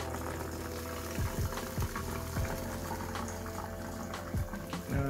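Water poured from a 500 ml jug into an aquarium, a continuous splashing and gurgling stream heard close up without speech.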